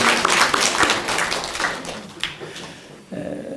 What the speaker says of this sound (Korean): 우리 2층에 계신 우리 외국인 학생들을 위해서도 한번 박수로 한번 환영할까요?